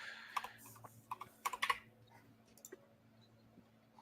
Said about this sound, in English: You could just type in on your keyboard PYPL.